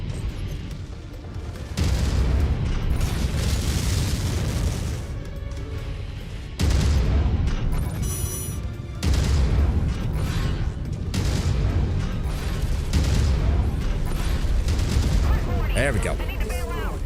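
Gunfire hits a Bullshark mech in a mech combat video game, heard as dense, sustained bursts of booming shots and heavy mechanical rumble, loud and continuous, with radio chatter and talk over it.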